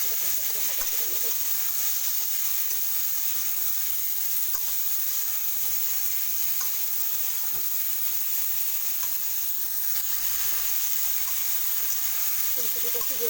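Cauliflower florets fry in hot oil with turmeric, a constant close sizzle with soft stirring scrapes now and then, for khichuri.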